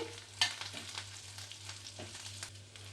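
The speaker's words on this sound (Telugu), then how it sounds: "ఇప్పుడు ఇందులోకి మనం వెల్లుల్లి రెబ్బలు ధనియాలు జీలకర్ర కరివేపాకు అంతా వేసుకొని ఒక రెండు మూడు నిమిషాలు ఫ్రై చేసుకోవాలి" Garlic cloves, coriander seeds, cumin and curry leaves fry in a pan for a toor dal chutney, giving a soft, steady sizzle broken by close clinks and scrapes of stirring. No one speaks.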